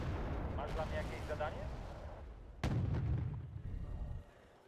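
Artillery fire in a vehicle combat video game: one heavy, booming blast lands midway and rumbles on for a second or two, while someone talks over the sound.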